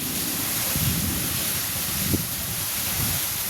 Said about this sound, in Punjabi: ਲਗਾਤਾਰ 2 ਘੰਟੇ ਹੋ ਗਏ ਆ ਹਜੇ ਵੀ ਮੀਂਹ ਕੋਈ ਹਟਣ ਦਾ ਨਾਂ ਨਹੀਂ ਲੈ ਰਿਹਾ